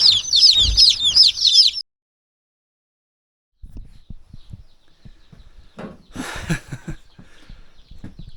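Newly arrived baby chicks on a homestead during an ice storm peep in quick, high, repeated chirps for about two seconds, then everything falls silent before soft handling and rustling noises follow.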